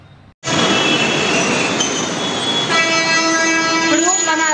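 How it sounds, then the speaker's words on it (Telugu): A Hyderabad metro train on the ride to Jubilee, sounding loud and steady with a rushing rumble, bright tonal wheel and motor whines rising in pitch toward the end, after a brief quiet start. "జూబ్లీస్ కి బై మెట్రో వెళ్తా ఉన్నాము"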